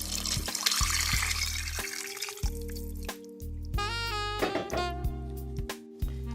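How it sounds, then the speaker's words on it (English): Beef broth pours into a soup pot for lasagna soup, giving a soft, steady liquid trickle and splash. Sustained tonal background music plays throughout. "Now we're going to begin to add in our beef broth."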